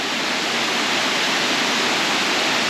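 Steady, roaring wash of a waterfall pouring into a lagoon, a dense broadband rush that holds constant and loud throughout with no voices over it.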